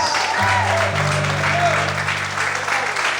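A church congregation claps in praise during a worship service, a steady broad patter of many hands carrying on throughout, mixed with sustained organ or keyboard tones and some voices underneath.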